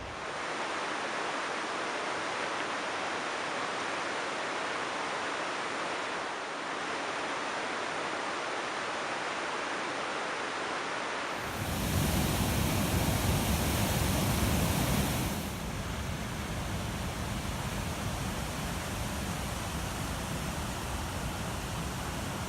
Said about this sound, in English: the waters of this stream will be cascading over Rickenbach Falls